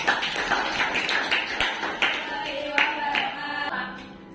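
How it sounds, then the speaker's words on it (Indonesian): A class of students in a school lesson claps their hands together, a loose, uneven patter of sharp claps running steadily before thinning out toward the end. "Tepuk tangan dulu dong."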